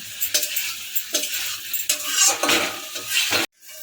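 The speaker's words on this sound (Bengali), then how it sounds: "এবার এটা নেড়ে চেড়ে আমরা একটু শুকনো শুকনো করবো" Steady stirring of pumpkin and prawn ghonto in a wok as it cooks down drier: close, repeated scraping strokes with soft sizzling, ending in a brief near-silence.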